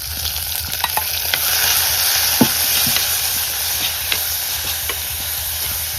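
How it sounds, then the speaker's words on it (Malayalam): Curry leaves, tomato and green chili frying in a pan make a steady, loud sizzle with intermittent stirring scrapes and small pops, with no talking. "രണ്ട് കറിവേപ്പില ഇട്ടുകൊടുക്കുന്നുണ്ട് തക്കാളി പച്ചമുളക്"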